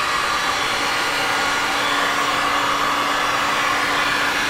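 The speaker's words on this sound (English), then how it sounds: "I like to use a heat gun to like push it like that." Heat gun blowing hot air across poured epoxy resin, a steady, continuous close whir and hiss with a constant pitch and no breaks.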